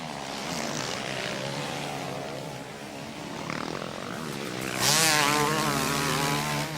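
Motocross bikes at the 2003 MXGP round in Gorna Rositza, Bulgaria, including a 250cc Suzuki and a 450 KTM, snarl and rev past with rising and falling engine whine that swells loudly near the end.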